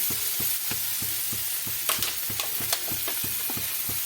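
Spice masala sizzles hard in a hot pan while it is stirred and water is added, a dense steady hiss with a regular series of scraping stirs and a few sharper pops.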